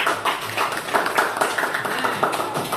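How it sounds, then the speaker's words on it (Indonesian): A school class applauds a student group after a regional dance presentation, a moderate burst of many hands clapping in an uneven, lively rhythm within a classroom. "Tepuk tangan buat kelompok 2"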